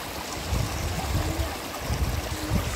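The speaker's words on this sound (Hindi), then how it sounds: "कल कल कल कल बहता पानी," Canal water flows and babbles steadily near a temple outing, a close, continuous rushing wash with gentle rippling pulses and no voices over it.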